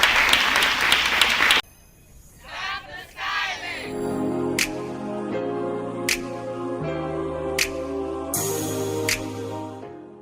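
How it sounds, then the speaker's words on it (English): An audience at a women's conversation event breaks into loud, dense applause that stops abruptly, followed by music with sharp accents and a sustained tone. "So you all give them a clap for that"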